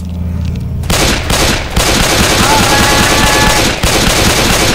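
Gunfire in the video game Left 4 Dead 2, a dense, loud burst of rapid automatic shots that runs continuously with a few brief gaps, while a faint voice talks underneath.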